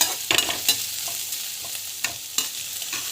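Chana dal, mustard seeds and cumin sauté in a hot pan, sizzling steadily while a spoon scrapes and taps in irregular strokes, close and without speech.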